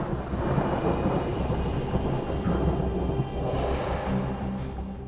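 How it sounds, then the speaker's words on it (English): A long, heavy rolling thunderclap from a falling meteorite, booming loud and continuous with deep rumble throughout, no voices. "A thunderclap is heard for hundreds of miles around."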